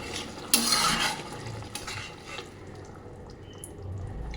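Hot water is poured into a ridge gourd curry in a pan, giving a brief splash and bubbling, then a low simmering sizzle with light utensil clatter.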